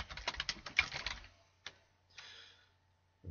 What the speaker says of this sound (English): you can type in your URL